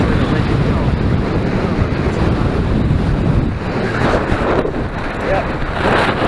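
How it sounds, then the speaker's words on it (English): Strong wind buffets the microphone on an exposed hill during a bike ride across Winter Hill, a loud steady rushing roar that rises and falls slightly throughout. "Yeah, it's really windy."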